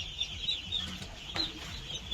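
Chickens cluck nearby as grain is scattered on paper for them, with short irregular clucks and a brief flutter of wings over steady faint background noise.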